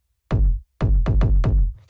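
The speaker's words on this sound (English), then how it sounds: "Just like a really nice, hard-hitting techno kick." Punchy, hard-hitting techno kick drum sample, a single booming hit followed by a pause, then four quick loud kicks in a row ringing out on their own.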